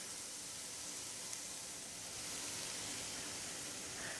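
Beef and zucchini noodles with green onions and sauce sizzle steadily in a hot pan, a constant close hiss of frying that holds at an even level throughout with no talk.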